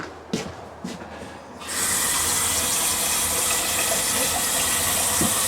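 After a few faint clicks and knocks, an RV's water pump kicks on in a 2025 Salem Cruise Lite 22VERANDA travel trailer, and a steady, loud rush of flowing water takes over for the rest of the moment.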